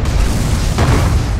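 A siege cannon fires in a multiplayer video game battle outside castle walls, a short deep boom over rumbling game noise.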